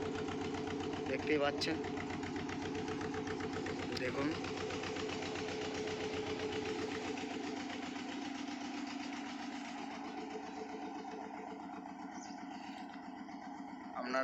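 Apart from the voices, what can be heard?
motor boat engine running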